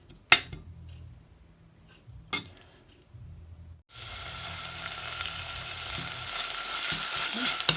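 Chili paste drops into hot oil and fries with a loud, steady sizzle that swells after a few sharp clanks of a utensil against the pan, close up and with no talking.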